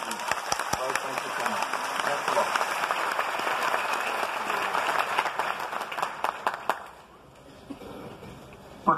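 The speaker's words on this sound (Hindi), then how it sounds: "जोरदार तालियां सुशील सिंह जी" Crowd applause at a leadership training event in Mumbai, a burst of many hands clapping with voices mixed in, fairly loud, then dropping away abruptly before a brief sound at the end.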